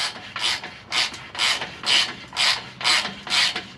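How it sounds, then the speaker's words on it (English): A ratchet slowly tightens a 12mm bolt on the exhaust of a 2020 Toyota Tundra during a muffler install. About eight even rasping clicks of the pawl come close and clear, with no speech. "this 12mm bolt, you're just going to want to slowly tighten it down"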